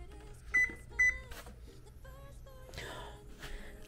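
An oven's control panel gives two short electronic beeps, then several fainter tones as bake temperature is set, alongside quiet kitchen handling noise.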